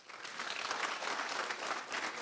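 Audience applause fills a lecture hall during a robotics talk, a steady wash of many hands clapping at moderate level with no speech over it.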